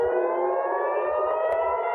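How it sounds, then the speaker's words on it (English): Air raid sirens in Israel wail steadily, a sustained rising tone held loud and continuous throughout, with a faint low rumble beneath and no talk. "In Israel, sirens blared throughout the day, a warning to residents to run for shelter."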